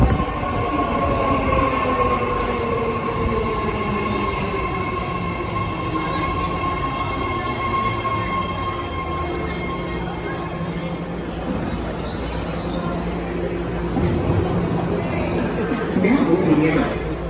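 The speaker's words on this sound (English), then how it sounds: "New train coming in, platform 2." A BART Fleet of the Future ten-car, three-door train pulls into a Daly City platform on the Green line in San Francisco, a loud rumbling approach with wheel whine and squeal that slides downward, brakes hissing near the end.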